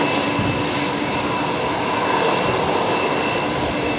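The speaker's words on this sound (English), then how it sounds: "there's the new Jetstar 320 Neo." A new Jetstar Airbus A320neo airliner passes at an airport as a steady, loud broadband engine roar that holds evenly throughout, with no talk.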